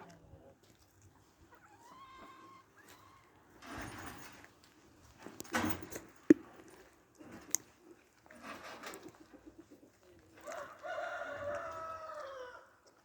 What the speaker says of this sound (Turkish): Tavuklarımız geziyorlar.